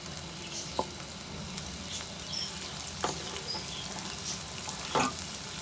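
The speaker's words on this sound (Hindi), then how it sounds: "प्याज को फ्राई करते हैं।" Onions fry in hot oil in a pan, a soft continuous sizzle with a few light stirring clicks and taps.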